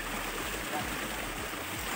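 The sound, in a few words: waterfall at Biramunda Mahadev temple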